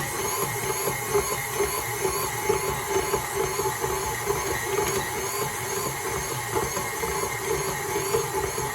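A stand mixer kneads bagel dough with a steady, loud motor whir and a rhythmic churning thump repeating throughout, heard alone without talk.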